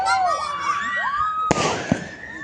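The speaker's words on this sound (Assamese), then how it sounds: "এইফালে বম ফটকা ফুটি আছে পুৰা" Firecrackers burst at a wedding reception, with whistling rockets rising over a crowd before two sharp, loud bangs, while voices carry faintly in the background.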